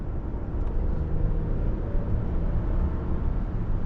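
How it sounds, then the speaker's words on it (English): Inside a 2025 Nissan Armada with a turbocharged V6, a steady low engine drone and road rumble fill the cabin during acceleration, fairly smooth and unobtrusive, with no talking. "I want you to hear me accelerate, and I wonder if you can hear the turbo."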